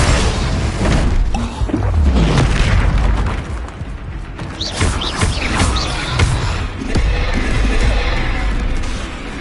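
Spell blasts from Bombarda and Confringo burst repeatedly in the wizarding video game Hogwarts Legacy, a dense string of loud booms and thuds with a few brief lulls between volleys.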